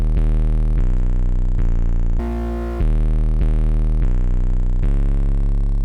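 A loud 808 bass pattern that cuts off and hands over to a second synth bass, with deep sustained notes retriggering in a steady rhythm and a brief noisy break midway.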